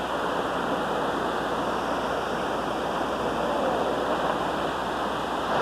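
A steady, dense rush of falling water roars continuously, close and loud, with no breaks or voices.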